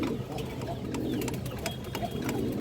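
Pigeons in a loft of army, silver and high-flyer breeds coo steadily over a dense, busy background, with several sharp clicks and flutters scattered through.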